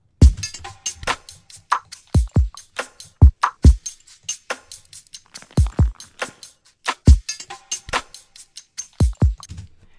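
A punchy drum beat with deep kicks and sharp hits, layered with echoing and steady shaker sounds in a loose, repeating rhythm.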